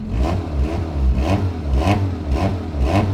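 A Peugeot 106 engine revs in repeated rising bursts, a rough, raspy note from a slightly leaking exhaust throbbing loud and close with a steady low rumble between pulses.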